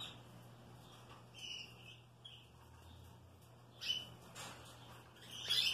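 Green canary chicks in a nest give faint, thin, high chirps and cheeps in short scattered bursts, growing a little busier toward the end, quiet over a low steady hum with no talking.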